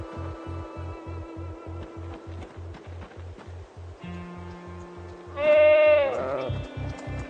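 Sheep bleating in Project Zomboid, with one loud, close bleat over a rhythmic mechanical thumping and a few fainter bleats around it.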